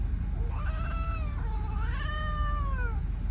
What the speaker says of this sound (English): you're being a grumpy little cat today, aren't you?